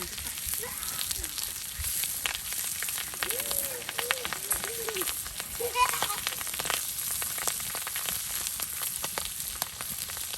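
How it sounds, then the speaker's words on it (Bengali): Pangas fish belly pieces frying in oil with spices, a steady crackling sizzle with dense popping throughout, while a person talks faintly over it. "এই যে আপনার পেটিগুলো এখন তেলে ভেজে নেওয়া হবে"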